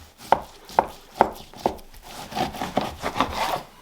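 A knife cutting through whole bone-in ribeye steaks on a wooden board, four evenly spaced sharp knocks followed by a rougher run of sawing, rasping strokes, close and clear with no talk.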